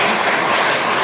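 Small training jets roar loudly and steadily at close range as they take off together at La Ferté-Alais airfield, a dense broadband jet noise with no breaks.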